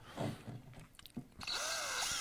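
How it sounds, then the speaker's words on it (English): A power drill boring through a 2x4 for a French-style mousetrap, with a short motor whine and pause before the bit bites in and grinds steadily through the wood at close range. "we're going to drill all the way through the 2x4 here"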